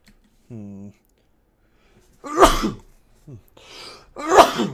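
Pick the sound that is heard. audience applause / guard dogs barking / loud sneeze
loud sneeze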